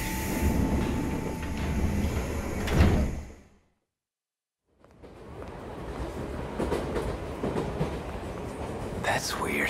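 Train in the video game 13 Sentinels: Aegis Rim, a loud rumbling with door-like sliding and clattering noises, cut by a sudden second of silence before the rail noise resumes at full level.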